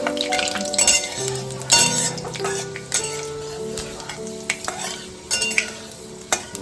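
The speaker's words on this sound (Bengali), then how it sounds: "5 ফোড়ন একটু ভাজা হোক।" Panch phoron, a Bengali five-spice mix, fries and is stirred in hot oil in a pan, giving a close, steady sizzle broken by scraping stirs and an occasional clink of the spoon against the pan.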